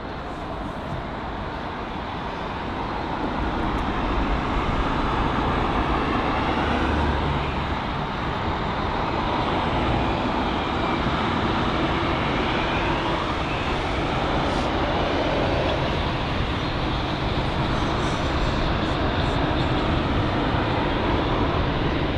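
A United Boeing 787-9 Dreamliner arrives in fog at London Heathrow, its broad jet roar swelling in the first seconds and then holding steady and loud, with faint shifting whine on top.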